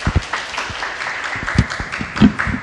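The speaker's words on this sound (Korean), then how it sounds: "어떤 공연 펼쳐주실지 뜨거운 박수로 환영해 주시죠" Audience applause greets a band's singer taking the stage at a Korean talk event, a dense patter of claps that rises and falls for a few seconds without any voices.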